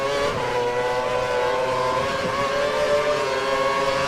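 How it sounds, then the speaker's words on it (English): A Sauber Formula 1 car engine in the F1 2012 racing game, a steady high-pitched whine with layered harmonics, continuous and fairly loud as the car draws closer, with no talk over it. "I can hear an engine. I can hear it in my right ear. It's getting closer."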